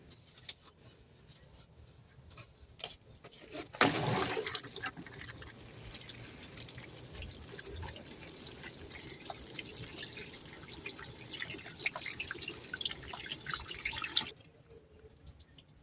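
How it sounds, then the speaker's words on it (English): Newly planted potatoes in a grow bag get watered, a steady close hiss and patter of water pouring onto soil that starts abruptly, runs for about ten seconds and then stops. "So now I'm just going to water them in."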